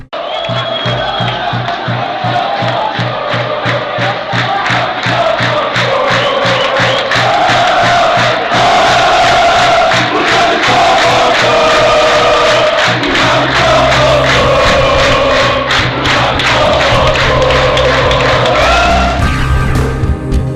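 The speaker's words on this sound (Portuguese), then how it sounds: "O gol fez a torcida mostrar mais uma vez o quanto Jobson era amado e cantavam: Jobson voltou" A football crowd in a Brazilian stadium chants a striker's name in loud, sustained rhythmic unison, with whoops and cheers rising throughout and no clear individual voices.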